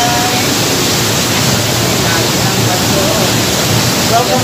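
Strong, heavy water rushes down a waterfall at Ukab Falls in Manabo, a dense unbroken roar from up close that fills the whole clip with no pauses.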